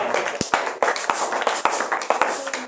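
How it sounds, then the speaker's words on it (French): Applause from a church congregation during a sermon, irregular claps and taps rising and falling for a few seconds, fairly close and moderately loud. "Acclamons pour vous."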